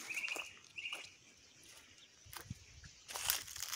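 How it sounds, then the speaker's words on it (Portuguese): Birds sing near a rural farmhouse: faint, short chirps and whistled notes come in a few bursts against a very quiet background with light rustling. "Nessa época os passarinhos ficam só cantando"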